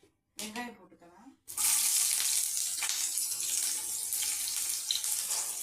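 Chopped onions tipped into hot oil burst into a loud, sustained sizzle that stays strong to the end, after a brief stretch of quieter talk-like sound.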